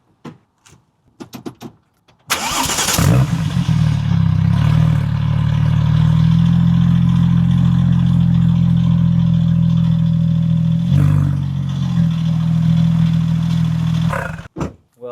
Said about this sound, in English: let me fire it up for you so you can hear the startup